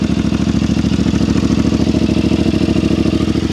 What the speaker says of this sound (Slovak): Teraz si to ideme naštartovať.